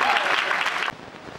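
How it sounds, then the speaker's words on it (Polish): A short, dense burst of audience applause fills the hall at an amateur theatre festival gala, then drops suddenly to a thinner spatter of claps. "Więc wielkie brawa."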